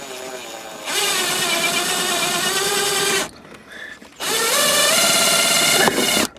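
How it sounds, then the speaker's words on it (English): A power drill bores through the metal core of a rubber-covered shifter handle on a Jeep AX5/AX15. It runs as two loud, steady whining bursts close up, separated by a brief pause. "it drilled through the metal in this rubber piece"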